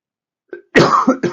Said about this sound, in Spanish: Perdonen ustedes la tos.